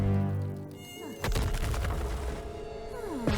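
Buzzing of a cartoon mosquito-like insect, a whiny high drone that swoops in pitch, with a sudden crash partway through and busy animated sound effects around it.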